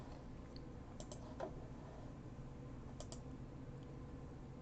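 Computer keyboard keys pressed during 3D modeling work in Blender, a few sparse, separate clicks over a steady low background hum, fairly faint.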